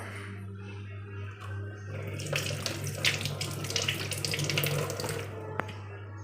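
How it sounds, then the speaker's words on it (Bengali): A household water tap runs steadily into a sink while someone washes hands stained black from cutting jackfruit, the splashing gushing close and loud over a constant low hum, then cutting off near the end. "হাতটা ধুয়ে নিই বন্ধুরা"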